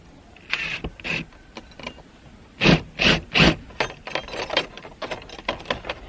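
A power screwdriver drives screws into a house wall to fix a solar LED outdoor light bracket, with short whirring bursts and ratcheting clicks in spurts, up close and without talk.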